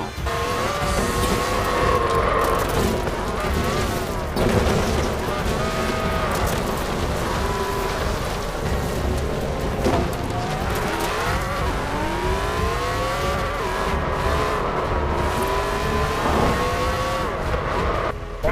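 A modified, fully upgraded stock-engine car in Forza Horizon 4 revs hard and screams through gear changes, its pitch climbing and dropping repeatedly alongside tire squeal, loud and continuous without talk.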